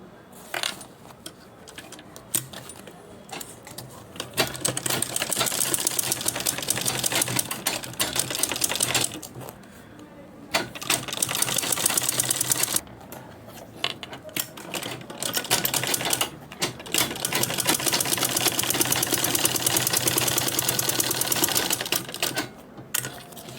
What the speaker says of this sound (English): See, I'll sew it like this, just sew it round.